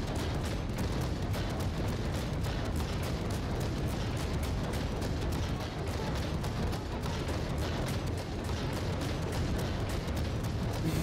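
Rapid, dense naval gunfire from the Colbert, a French light cruiser in World of Warships, pounds without pause as a loud, continuous barrage of overlapping booms for about eleven seconds.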